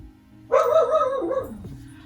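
A small dog barks and yips once in a drawn-out, whining burst indoors, fairly close and moderately loud, then trails off.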